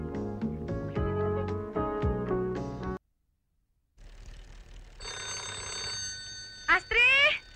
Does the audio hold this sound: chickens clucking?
no